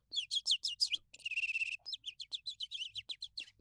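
A person imitates cute bird chirping with their voice: close, rapid bursts of high tweets, a sustained trill, then a run of quick, evenly spaced chirps, with no talking.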